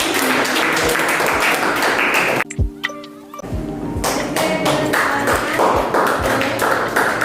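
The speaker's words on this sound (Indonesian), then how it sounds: "Oke, beri tepuk tangan." Classroom applause after a student group presentation: loud, close clapping from many hands, breaking off briefly near the middle before resuming as scattered claps.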